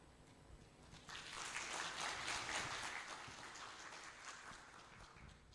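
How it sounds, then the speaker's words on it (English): A crowd claps to welcome a speaker at an international webinar, rising from near silence into a steady, faint round of applause that tapers off slowly, with no talking over it. "Please join me in giving a warm round of applause to welcome our distinguished speaker today"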